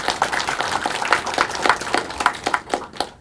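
Officials at a regular municipal staff meeting applaud together, a short burst of fairly close, steady clapping with no voices over it.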